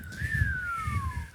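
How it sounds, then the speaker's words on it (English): A single whistled tone from the 1988 film Mac and Me glides up and then slowly slides down over about a second and a half, clear and steady above a low murmur of background noise. "There's so much whistles."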